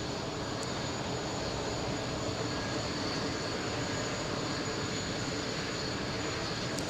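An Airbus A380 takes off at JFK, a loud, steady, broadband jet engine roar that holds constant throughout, with no voices.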